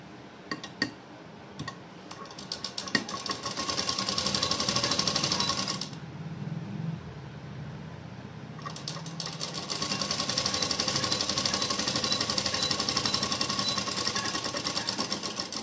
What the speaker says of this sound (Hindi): अब मैं इसमें सिलाई लगाऊंगी।